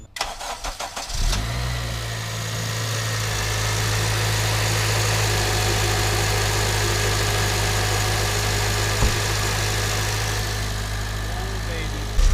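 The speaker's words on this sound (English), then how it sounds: "Let's listen to this Supercharger whine." An 8th-generation Honda Civic Si engine with a supercharger cranks and starts, then settles into a steady, loud idle with a constant high-pitched supercharger whine running over the drone.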